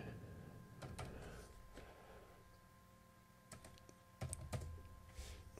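Fingers tap out quick, close bursts of clicks on a computer keyboard, with pauses between the runs of keystrokes and a faint hum underneath.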